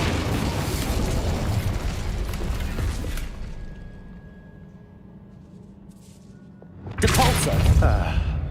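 Incendio fire spell cast in the video game Hogwarts Legacy: a loud, roaring fiery burst that cuts off into a quiet lull, then a second sharp blast erupts near the end.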